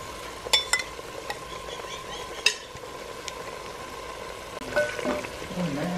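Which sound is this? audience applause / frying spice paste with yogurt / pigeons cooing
frying spice paste with yogurt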